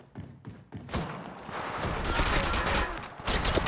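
Rapid bursts of gunfire in the mobile shooter game Apex Legends Mobile, a few separate shots at first, then a dense, sustained volley of automatic fire that stays loud and close throughout.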